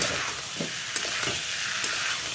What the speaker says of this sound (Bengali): দিয়ে দেবো এই যে মটরশুঁটি, সিদ্ধ করে রাখা